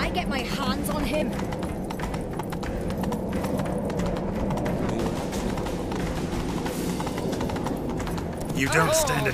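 Galloping horses in The Witcher 3 video game, a steady, driving drum of hooves that runs throughout under shouting voices, with a short neigh near the close.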